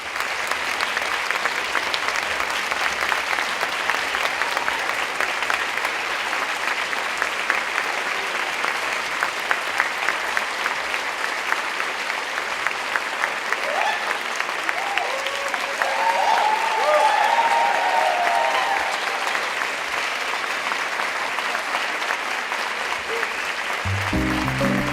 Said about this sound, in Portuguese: De pé, a plateia se despede de Ailton e Geni com uma salva de